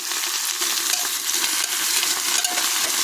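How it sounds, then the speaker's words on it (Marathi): Vegetables for pav bhaji sizzle loudly in a large spoonful of hot oil, a dense, constant crackling hiss near at hand with faint stirring scrapes and no talk. "त्यामध्ये सर्व भाज्या परतून घ्यायच्या."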